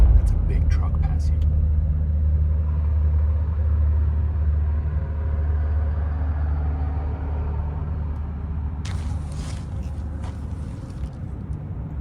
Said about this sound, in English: That's a big truck passing.